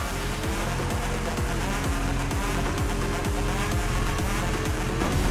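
Race car engine in Fast & Furious Crossroads revving hard and steady through a handbrake drift, with repeated gear-shift sweeps and a continuous tire squeal. The sound is loud and close, with no talking.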